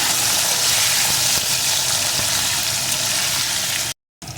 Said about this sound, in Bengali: আলুটাও কিছুক্ষণ ধরে ভেজে নেব